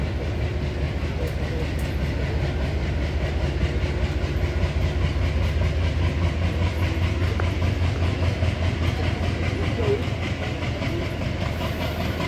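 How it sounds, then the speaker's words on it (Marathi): A Konkan Railway passenger train pulls away from Aravali Road station with steady rumbling and clickety-clack of wheels over rails, loud and continuous, with some voices faintly underneath. "आता आपली ट्रेन जी आहे ते आरवली रोडवरून"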